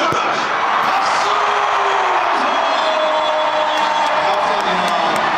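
A huge stadium crowd at a K League 1 football match, FC Seoul against Daegu, cheers and claps in a continuous loud roar with scattered whoops and shouted voices.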